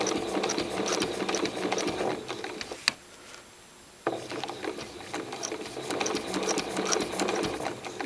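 A sewing machine stitches curved crosshatching in free motion quilting, running as a fast, close mechanical chatter that halts for about a second partway through and then resumes at the same steady pace.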